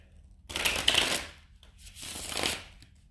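Tarot cards are shuffled in two quick riffling bursts close to the microphone, each lasting about a second with a short quiet gap between, and no talking.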